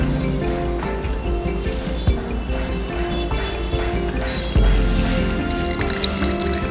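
Water from a homemade filter trickles and pours steadily into a glass, with small drips and splashes over a low background hum.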